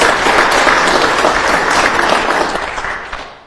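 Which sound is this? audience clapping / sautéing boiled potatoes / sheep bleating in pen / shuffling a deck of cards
audience clapping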